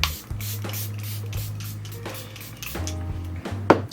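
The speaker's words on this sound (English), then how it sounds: "For lasting power, we're gonna do my Charlotte Tilbury Flawless Finish setting spray." Short hissing bursts of a Charlotte Tilbury Flawless Finish setting spray bottle, close by, separated by pauses and a few light clicks and handling noises.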